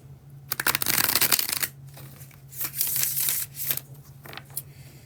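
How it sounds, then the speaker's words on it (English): Tarot cards riffle together in a close, crisp bridge shuffle: a fast fluttering burst, then softer rippling and tapping as the deck settles. No voices. "Do a bridge shuffle here for the tarot deck"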